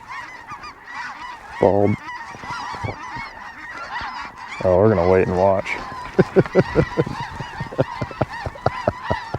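A flock of snow geese honks in repeated nasal calls, some loud and near, others fainter behind, with people talking quietly over the calls.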